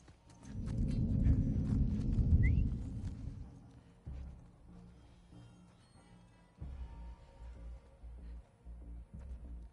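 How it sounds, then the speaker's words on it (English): Enemy footsteps in The Last of Us Part II, coming from just below: a run of heavy, regular low thuds in the second half, following a louder rumbling stretch of game ambience. "His footsteps are so loud,"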